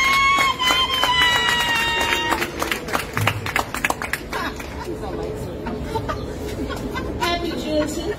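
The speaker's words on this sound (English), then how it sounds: "Everyone, give your applause to" Audience applause at a Juneteenth event held by a Black employees council, a steady wash of clapping that runs the whole stretch, with crowd chatter and background talk mixed in.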